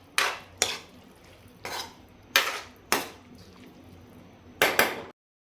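A spoon stirs shredded cabbage cooked with moong dal in a metal pan, giving about six sharp clanks and scrapes at uneven intervals, close and alone, before a brief silence.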